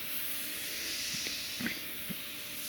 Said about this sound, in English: I'll go ahead and hit it with the oven degreaser